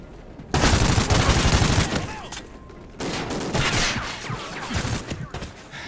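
Loud bursts of automatic gunfire from a Call of Duty: Ghosts combat mission, with dense overlapping shots and booms that pause briefly before resuming, under faint battle chatter.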